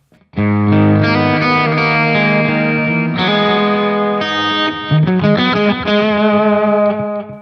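Distorted electric guitar playing the original tone, sustained chords and then a quicker run of picked notes, loud and without any voice.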